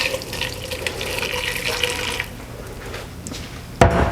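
Liquid with dissolved seasoning poured from a pan over rouladen, a steady splashing pour that fades, then a brief clatter near the end.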